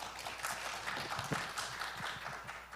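An audience at a panel forum on living labs claps, a faint, steady spatter of applause in a hall with little else audible.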